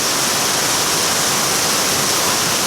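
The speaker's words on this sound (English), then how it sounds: "I'm under this big umbrella under heavy rain" Heavy tropical rainstorm pouring onto a large umbrella in a street with shops on Merdeka Day in Donggongon, a loud, dense and steady roar of drumming water with no voices.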